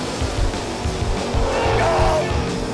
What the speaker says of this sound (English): Let's do the burnouts.